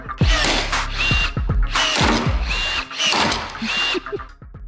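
Rivet tool setting rivets into pre-drilled holes on a new Porsche 911 GT3 RS body panel: a close series of short mechanical whirring bursts, each ending in a sharp snap, repeated roughly every second.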